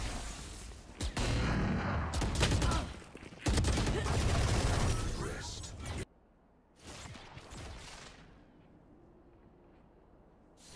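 Gunfire in Valorant on the Ascent map: dense bursts of automatic shots and sharp reports at close range, followed by quieter scattered shots and whooshes, with brief player chatter nearby.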